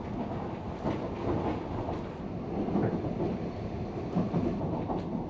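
A steam train on the narrow-gauge Ffestiniog Railway in North Wales runs through a steep rocky landscape, heard from on board as a steady low rumble and roar with faint clicks and knocks, continuous and without voices.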